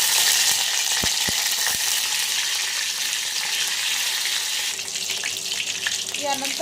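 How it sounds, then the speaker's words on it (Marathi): Half a spoon each of cumin and mustard seeds crackle and sizzle in hot oil while cooking hotel-style sambar, a steady loud frying hiss with a few sharp pops early on and faint stirring later. "आपण आता यात अर्धा चमचा जिरे, अर्धा चमचा मोहरी घालून घेऊ"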